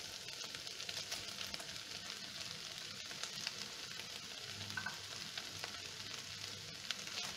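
Fried beef for chilli beef sizzles steadily in a hot pan, a close, continuous frying hiss with faint stirring clinks and no talk.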